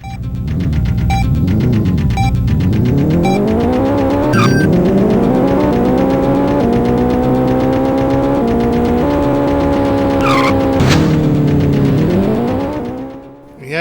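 Race cars in an Atari Jaguar racing video game, with loud, continuous synthesized engine tones that rise and fall in pitch as the cars accelerate and shift, plus brief squeal-like sweeps, filling the whole stretch without speech.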